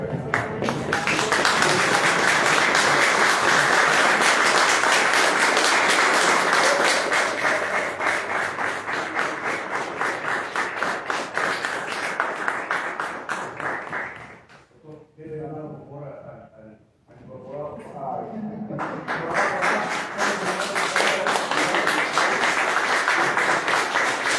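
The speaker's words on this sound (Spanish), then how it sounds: "todos de pie y aplausos para la" Standing applause fills the hall at an academy induction ceremony, long and dense from many hands. It breaks off into a short lull with voices and stirring, then swells again.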